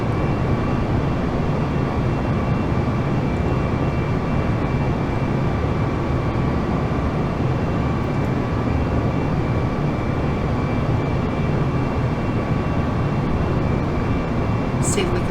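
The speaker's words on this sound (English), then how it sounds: "Airbus heading your way." Airbus airliner engines roar in a flight simulator game, a constant broadband rushing drone with steady faint whine tones, loud and unbroken throughout the whole stretch.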